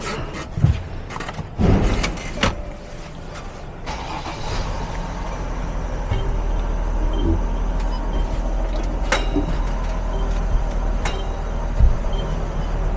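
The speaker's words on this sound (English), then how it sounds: "Let's make sure this parking brake holds well." A Mercedes Sprinter van held on a newly replaced rear parking brake, its engine settling into a steady low rumble after a few knocks and clunks at the start, with no talking.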